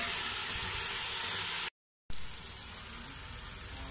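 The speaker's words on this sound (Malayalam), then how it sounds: "നല്ലോണം നന്നായി വഴറ്റി കൊടുക്കാം." Food sautés in a pan for a Kozhikode-style beef biryani, giving a loud, steady, bright sizzle that drops out briefly and then resumes, with no voices.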